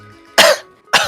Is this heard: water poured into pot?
no